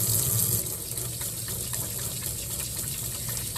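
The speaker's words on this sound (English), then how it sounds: "wash your hands" Hands are washed under a running tap, water pouring and splashing steadily into a sink at a moderate level with no voice over it.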